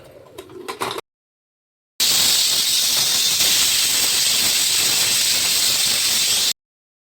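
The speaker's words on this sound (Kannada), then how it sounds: "ಎರಡು ವಿಸಿಲ್ ಆಗಿದೆ ಈಗ ವಿಸಿಲ್ ತೆಗಿತಾ ಇದ್ದೇನೆ" Pressure cooker on a stove cooking methi pulao with field beans, letting out a loud, steady hissing steam whistle for about four and a half seconds after a brief burst of clatter and a pause.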